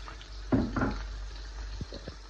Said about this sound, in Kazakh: Қызып тұрған майымызға ең алдымен пиязымызды салып қуырып аламыз.